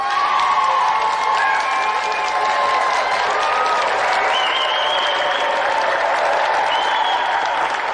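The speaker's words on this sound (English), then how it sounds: "Another round of applause for our special guest" A studio audience at a 1993 television game show gives a special guest a loud, sustained round of applause mixed with cheering and whoops, while synth music plays underneath throughout.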